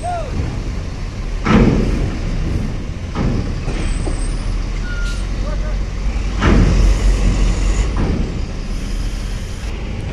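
Buses moving through the Bakauheni ferry port at night, low engine rumble with a couple of louder passing surges and brake hisses amid general traffic noise.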